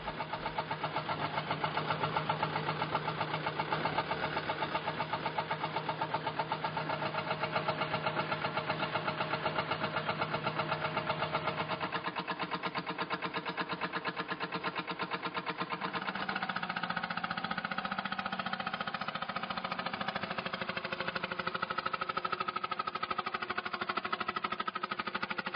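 An old Austrian Yanbar diesel engine on a Balkan train chugs steadily, a dense rattling drone that runs continuously, shifting slightly in pitch partway through.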